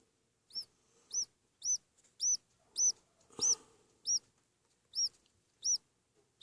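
Budgies in a cage chirp in about ten sharp, evenly spaced calls, each short and bright, close and clear against a quiet background with no talking.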